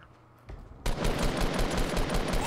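Rapid automatic gunfire in Fortnite rattles out as a fast, even burst of loud shots, starting after a short lull with a few isolated pops and continuing steadily to the end, with no voices.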